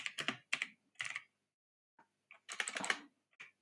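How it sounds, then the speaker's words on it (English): Bursts of rapid clicking keystrokes on a computer keyboard, close and fairly loud, arriving in quick clusters separated by short pauses, with no voices. "Why am I typing it?"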